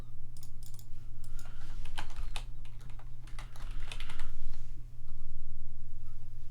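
Rapid, uneven clatter of keys as someone types on a computer keyboard, close and fairly loud, with short pauses between bursts over a steady low hum and no voices.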